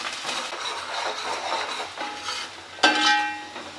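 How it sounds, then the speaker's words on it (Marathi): Onions with whole spices being stirred and sautéed in a pan for an Agri Koli style mutton dalmundi, soft scraping and sizzling with a spoon clinking against the pan near the end. "आता हे चांगला परतून घ्यायचं आहे."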